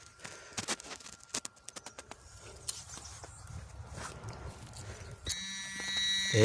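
Footsteps and rustling cross forest ground during a metal detector search for old bullets. Near the end the detector gives a steady electronic tone that grows louder.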